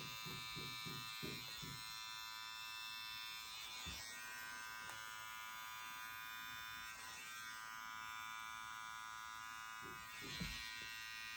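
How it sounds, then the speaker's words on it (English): An electric hair trimmer runs steadily on a child's neck during a home haircut, giving a continuous close buzz throughout with a few short bumps and shifts as it slides up the hairline. "you want to take your trimmer and flip it over and go in here and slide it up the neck"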